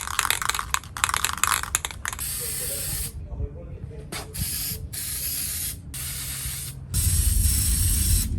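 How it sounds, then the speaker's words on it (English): Mod Podge super high shine spray hisses from an aerosol can onto a painted trinket box, a long continuous spray followed by several shorter bursts with brief gaps, close and fairly loud. "So I'm gonna use this Mod Podge super high shine spray."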